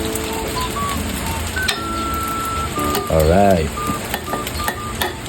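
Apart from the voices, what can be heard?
mixing and frying kimchi rice with egg and hotdog in a pan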